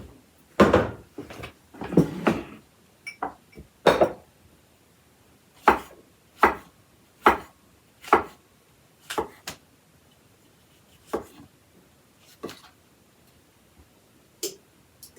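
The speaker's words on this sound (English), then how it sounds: "These are kind of big, so I think I'm going to chop them up a little bit more." A knife chops mushrooms and tomatoes on a board in about twenty sharp, close thuds. The cuts come in quick clusters at first, then settle into a slower, evenly spaced rhythm.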